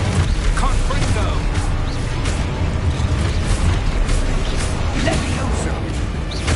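A Confringo spell blast in the video game Hogwarts Legacy gives a loud, dense explosive boom that fills the whole stretch with rumbling crackle.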